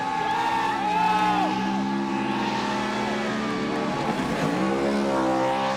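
A Ford Mustang drift car in a Formula Drift event climbs a hill, its engine wailing loud and steady with rising and falling revs and tire noise under it, and no clear speech.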